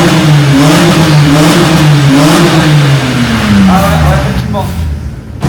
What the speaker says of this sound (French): Accélère vite avec la 30 parce que je l'ai pas entendu moi de l'extérieur.